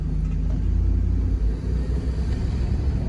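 A 2002 4WD GMC Yukon with 4.11 gears, K&N intake and 35-inch tires on 20-inch rims rumbles loudly up close, a deep engine drone swelling as it is revved.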